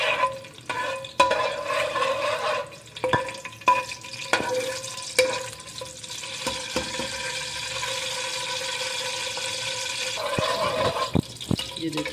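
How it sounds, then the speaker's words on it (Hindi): Cloves and cardamom sizzling in hot ghee while jaggery rice is being made, a continuous frying hiss broken by sharp clicks and scrapes of stirring, fairly close. "ये देखें घी गर्म हो गया है। अब इसमें जो मैंने लौंग ली थी और इलायची है ये डाल देंगे।"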